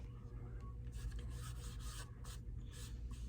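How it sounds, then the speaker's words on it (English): A baby wipe rubs paint into a piece of wood, giving a steady, close rasping scrape with repeated strokes under a low background hum. "just rub it into the wood with the baby wipe"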